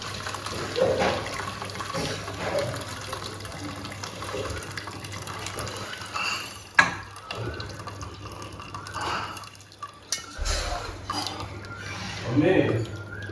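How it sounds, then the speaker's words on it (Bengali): Liquid poured while straining homemade meat stock in a kitchen, splashing and trickling water sounds with clinks, under intermittent talk. "এবার আমরা স্টকটা ছেঁকে নেব"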